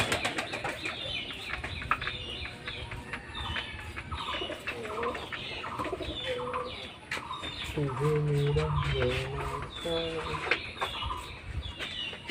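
Pet pigeons coo softly in their coop, a low repeated cooing with some wing flutter, heard amid a busy background with occasional voices nearby.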